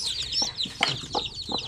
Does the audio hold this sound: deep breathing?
no